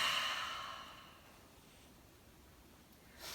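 A single long open-mouthed Ujjayi yoga exhalation during a flow class, a breathy throat-resonant sigh starting strong and fading over a few seconds, close and alone, followed by a soft intake at the end.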